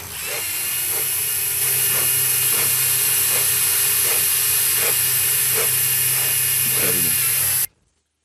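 A steady, loud whine of a band saw runs continuously with regular faint ticks, then cuts off abruptly near the end.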